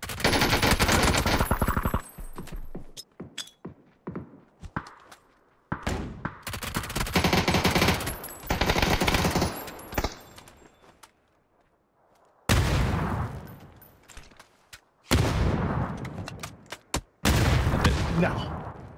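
Bursts of automatic gunfire in the battle royale game PUBG, loud close volleys and rapid shots separated by brief quiet gaps, with a voice talking between the bursts.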